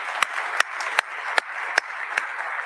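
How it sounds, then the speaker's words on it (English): An audience at a U.S. Postal Service event honoring Muhammad Ali gives a round of applause, with sharp, evenly spaced claps standing out over a soft background of clapping. "Let's give him a round of applause."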